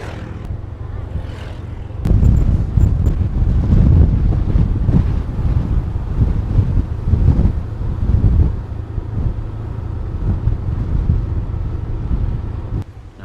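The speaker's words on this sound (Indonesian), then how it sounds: "Angin sana." Wind blasting the microphone outdoors beside a road where landslide debris is being cleared near the Bayang Nyalo bridge: loud, continuous low rumbling buffeting that jumps up after two seconds and stays strong, with no speech.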